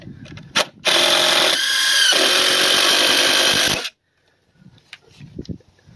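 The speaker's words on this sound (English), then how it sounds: "So you're supposed to drill a 3/16 hole." A power drill whines loudly up close for about three seconds as it bores a 3/16-inch hole in a staircase, its pitch dropping briefly mid-cut, then stopping into handling noises.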